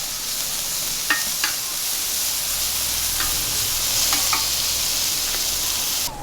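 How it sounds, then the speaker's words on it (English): Onions frying in butter on a Skottle outdoor griddle, giving a steady close sizzle with a few brief clicks of a utensil stirring. "we're just going to cook this until the onions are translucent"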